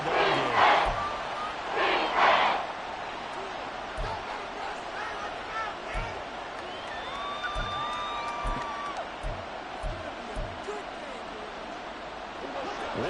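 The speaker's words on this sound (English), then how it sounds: "This crowd turning up the decibel level." Stadium crowd at a football game against the Cowboys, loud roaring bursts early on settling into a sustained background din with scattered shouts and whistle-like tones, a voice talking over it.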